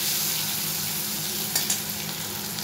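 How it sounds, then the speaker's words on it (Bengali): Onion frying with ginger, turmeric, coriander and red chilli powder in hot oil, a loud steady sizzle close by with a couple of brief stirring scrapes midway. "আমার পেঁয়াজটা ভাজা হয়ে গেছে।"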